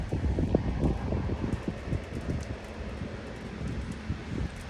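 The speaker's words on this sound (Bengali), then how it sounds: "ভীষণ জোরে হাওয়া দিচ্ছে" Strong gusty wind buffets the microphone during a thunderstorm, a steady low roar with irregular rumbling bursts throughout, close and continuous with no voices.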